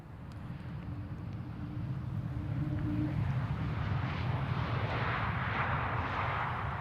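A Dreamliner airliner arriving at Amsterdam Schiphol makes a continuous broadband jet roar that swells gradually and stays loud throughout, heard from outdoors at a distance with no talking.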